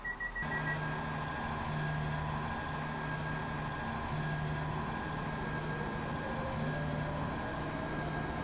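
Class 170 diesel multiple unit driven in the SCR video game on a Stepford Connect run from Morganstown to Beechley: a steady, close engine drone with a low hum and a constant high whine, holding level throughout.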